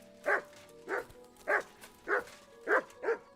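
A dog in the medieval game Kingdom Come: Deliverance 2 barks six times at a steady rhythm, about one bark every half second, moderately loud and close with no talk.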